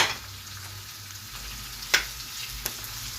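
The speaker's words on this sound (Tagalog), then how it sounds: "I'm cooking ground pork and mixed vegetables with shrimp paste" Ground pork and mixed vegetables with shrimp paste fry in a pan, making a steady, faint sizzle with a couple of brief utensil clicks, close by and without talk.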